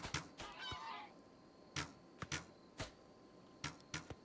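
A goose honking in a Minecraft modpack game, a short nasal call near the start followed by a series of sharp, evenly spaced clicks or hits.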